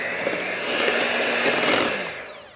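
A kitchen mixer whirs steadily through a thick chocolate zucchini cake batter made with yogurt and vanilla. The motor hum swells slightly in the middle, close and loud, with no talking.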